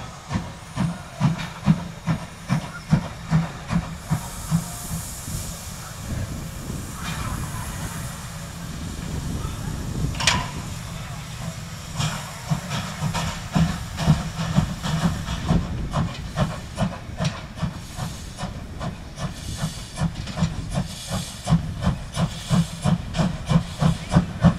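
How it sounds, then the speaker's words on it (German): Narrow-gauge Öchsle steam train running across a road near Herlishöfen, with steady rhythmic chuffing pulses under constant steam hiss throughout, loud and close, and a brief sharper burst near the middle. "Der Zug überquert die Verbindungsstraße nach Gallmutshöfen."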